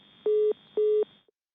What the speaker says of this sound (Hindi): लगता है फोन डिस्कनेक्ट हो गया है